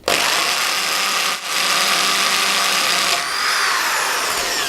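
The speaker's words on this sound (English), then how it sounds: "then we grab our drill" A power drill whines loudly and continuously, dipping briefly once, then runs on with a slightly changed pitch as it bores through material.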